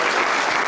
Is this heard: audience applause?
yes